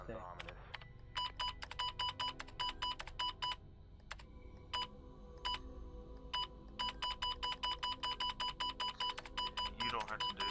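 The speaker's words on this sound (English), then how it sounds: "Oh, you hear a phone out there." A phone rings inside a cabin in the Friday the 13th video game, giving a long series of sharp, evenly pulsed electronic rings in quick bursts, clear and steady over a low background hum.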